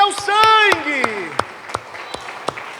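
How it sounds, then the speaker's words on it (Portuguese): A church congregation claps in sharp, spaced beats near the mic while a preacher sings and exhorts over the opening, the claps continuing alone afterward in a loose rhythm. "Aplauda mais, aplauda mais."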